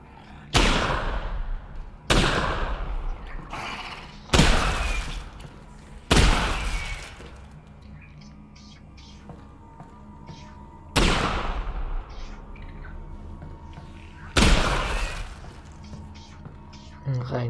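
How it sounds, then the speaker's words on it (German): Gunshots in the VR game Half-Life: Alyx: six loud, booming reports spaced a couple of seconds apart, each with a decaying tail, over a low game ambience. "Ein Schuss."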